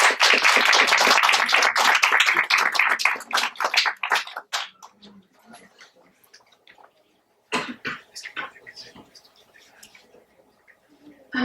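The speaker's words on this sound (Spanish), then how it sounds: "Un fuerte aplauso, por favor." An audience at a natural-history colloquium in Hidalgo, Mexico bursts into loud, dense applause for a speaker's introduction. The clapping fades after a few seconds, leaving sparse scattered claps, and a second smaller burst follows.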